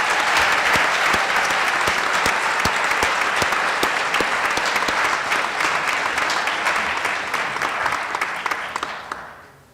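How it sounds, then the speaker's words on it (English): Big, full applause from a graduation ceremony audience for university graduates, many hands clapping in a dense, continuous roar with crisp individual claps, fading out at the very end. "Let's give them a big round of applause."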